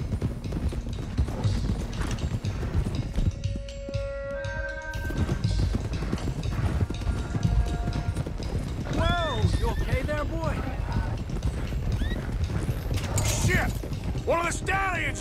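Steady clip-clopping horse hooves over a busy Red Dead Redemption 2 soundscape with creaks, music-like tones and voices talking.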